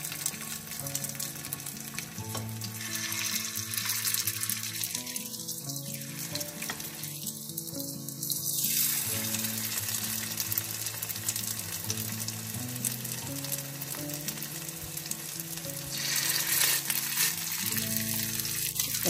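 Chicken keema kabab balls fry in oil in a pan, a loud, continuous sizzle throughout with occasional spatter and faint background music underneath.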